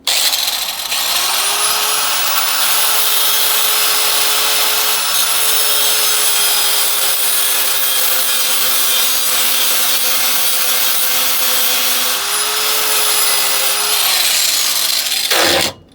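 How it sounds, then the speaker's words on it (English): Angle grinder with a cutting disc grinding the ears off a CETME metal trigger housing, a loud continuous high-pitched whine and grinding scream running steadily for about fourteen seconds before cutting off. "first order of business is to try and grind those ears"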